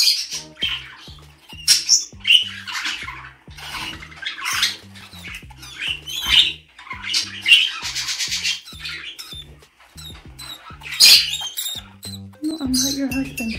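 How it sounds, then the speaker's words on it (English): A hormonal pet bird in mating season gives repeated sharp squawks and chirps, close and loud, scattered over a steady low rhythmic thumping pattern in the background. "make twittering sounds to entice their mate"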